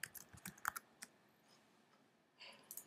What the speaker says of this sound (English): You'll type in your password.